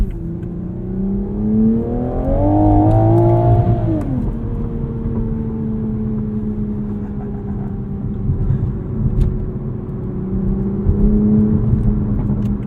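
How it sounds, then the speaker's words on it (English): A 2022 Toyota Supra's engine revs while driving, climbing to a loud rising whine, then easing off into a steady cruising drone that swells again near the end. "There is power everywhere in the rev range with this Supra."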